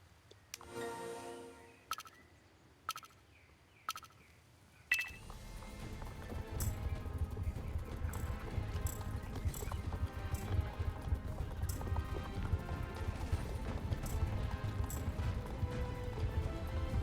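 Hooves gallop in a fast, steady rhythm as a horse runs in a video game, preceded by a few sparse clicks and thuds, then continuous pounding with ambient noise for most of the stretch.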